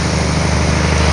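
Loud, steady drone of an ISX diesel truck engine idling close by, a constant low throbbing rumble without voices.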